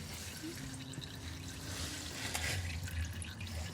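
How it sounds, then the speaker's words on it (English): Motor oil dripping from a car into a bucket during an oil change, a faint, steady trickle with soft drips against low background noise and no talking. "Still dripping."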